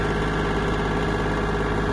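A Kubota L1-185 Japanese mini tractor creeps along in its lowest gear, its small engine giving a steady, even drone up close, unbroken and alone.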